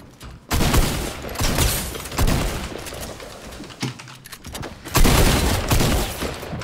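Rapid bursts of gunfire in Fortnite, loud close crackling volleys in dense clusters with short gaps between them, no talk.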